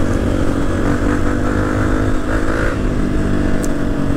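Several Honda CRF250 dirt bikes ridden along a muddy trail, their engines droning loud and steady at close range with shifting revs, one motor layered over another throughout, no voices.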